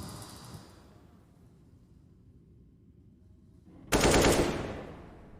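Pistol gunfire from the Overpass map in a Counter-Strike match: a single sharp, loud shot bursts out late after a near-quiet stretch, with faint game ambience before it.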